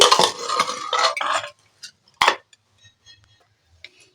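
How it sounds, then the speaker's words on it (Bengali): A pressure cooker of boiled rice is opened in a home kitchen. Loud metallic scraping and clattering come first, then a sharp clank, followed by faint scattered clinks near the cooker. "এবার কুকারটা খুলে আমি দেখব কতটা সেদ্ধ হয়েছে"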